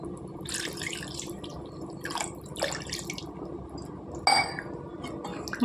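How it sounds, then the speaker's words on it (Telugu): Water poured from a vessel into a pan of bitter gourd curry, a steady liquid splash with a few brief clinks of metal or glass, heard alone at moderate loudness. "వాటర్ వేసుకోవాలండి."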